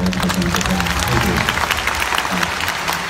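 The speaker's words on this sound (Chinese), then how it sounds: "可唔可以俾啲掌声我哋嘅台上嘅朋友？" A concert audience at a live show in Genting applauds the on-stage live band, a dense, loud wash of clapping that fills the whole stretch, with a faint voice underneath.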